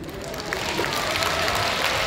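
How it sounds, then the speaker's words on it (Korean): Audience applauding at a song festival in Changwon's KBS Hall, a steady, dense wash of clapping from many hands that fills the room without pause. "박수 많이 쳐주신 분들을 존경합니다."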